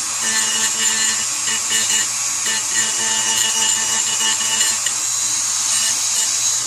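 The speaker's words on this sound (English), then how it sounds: "I'm going to go ahead and start sanding this stuff off" Sanding an airsoft HK G3 handguard flat on a Tippmann A5 build, giving a steady, continuous abrasive scratching close by with light, even pressure throughout.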